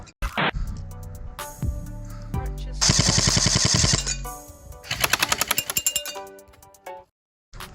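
Airsoft submachine gun firing at an outdoor field, first scattered single shots, then a loud rapid full-auto burst and a second quicker string of pops, close and clear with no talking.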